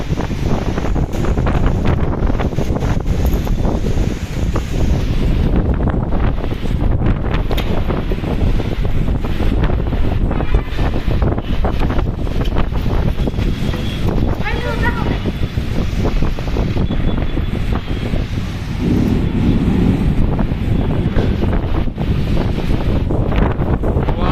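Strong Kalbaisakhi storm wind roars and buffets the microphone continuously, loud and close, with a voice speaking faintly beneath it at times.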